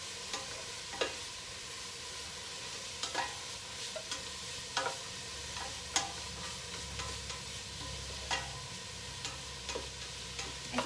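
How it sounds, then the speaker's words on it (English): Peppers, onion and garlic sizzle in a pan with a soft, steady hiss, broken by regular scraping clicks of stirring at close range, no voices. "we'll cook these peppers along with the onion and garlic for just a couple of minutes"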